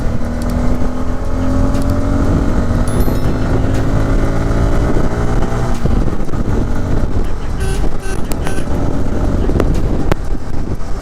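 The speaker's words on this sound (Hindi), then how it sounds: "तो आप थ्रॉटल खींचते हैं जहाँ पर काफ़ी तेज़ी से मोटरसाइकिल रिएक्ट करती है।" Bajaj Pulsar N250 motorcycle engine pulling hard as the throttle opens, a steady rising drone with wind buffeting the microphone throughout.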